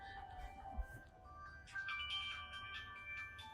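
A work mobile phone ringing with a melodic electronic ringtone, faint and somewhat distant, repeating tones over quiet room noise.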